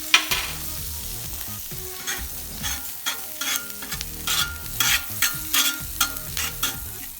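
Smash burgers, onions and butter sizzle hard on a Blackstone griddle, a steady loud fry broken by repeated sharp scrapes and clacks of a spatula working the flat top, with no talking.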